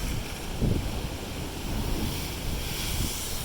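Pacific Ocean surf breaking against the rocky shore of an island at a blowhole, a steady rushing wash with a few swells rising and falling, buffeted by wind noise on the microphone.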